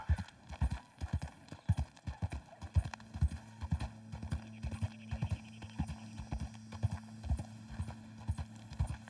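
Rhythmic clip-clop of video game horse hooves at a steady trot, clear and close, with a low droning tone joining partway through.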